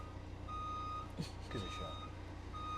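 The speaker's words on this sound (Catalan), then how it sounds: "perquè us posaré un pip i comença a sonar un pip" Faint electronic beeps repeat at a steady interval, a thin tone over low background hum, while a voice briefly speaks in the middle.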